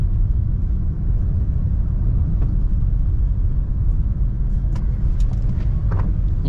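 Steady, loud low rumble of a Honda Brio with a manual gearbox rolling over a rough road surface in light drizzle, continuous tyre and road noise with a few faint ticks and knocks toward the end.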